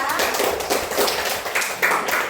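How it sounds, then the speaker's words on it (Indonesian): A short burst of group clapping, dense and steady, with a classroom-like room sound behind it. "tepuk tangan kelompok 2"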